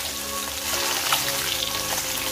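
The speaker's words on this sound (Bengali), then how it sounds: "ট্যাংরা মাছগুলো ভাজা হয়ে গেছে" Small tangra fish frying in hot oil, a soft, steady sizzle and crackle close by, with a brief stir or spatter midway and no talk.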